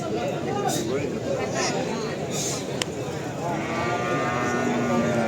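Cattle at a crowded livestock market, with scattered animal calls and a bleat rising from a dense, continuous crowd murmur, people talking throughout nearby.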